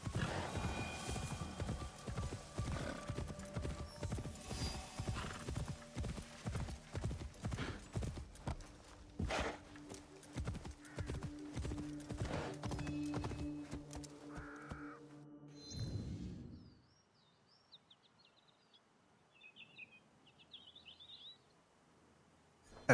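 Hooves clip-clop in a fast, steady rhythm from a horse being ridden in Assassin's Creed Shadows. The beat slows and stops as birds caw and chirp faintly in a quiet outdoor setting.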